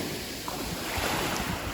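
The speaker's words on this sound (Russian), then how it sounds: "Пляж галечный, посмотрите, какая вода." Waves wash against a pebble beach by a turquoise sea, a constant close rush of surf and wind buffeting the microphone, with no voices.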